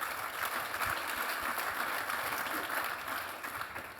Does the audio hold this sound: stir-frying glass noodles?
no